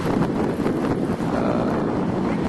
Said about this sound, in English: this pier is shaking, the wind's blowing